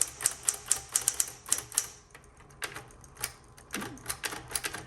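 Keystrokes on a 1960s Smith Corona Electra 210 electric typewriter, quick sharp clacks in irregular bursts with brief pauses between, close and fairly quiet.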